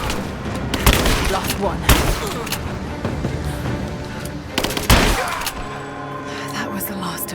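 Loud firefight from Rise of the Tomb Raider: repeated booming gunshots and bursts of automatic fire over continuous combat noise, with voices calling out in the game.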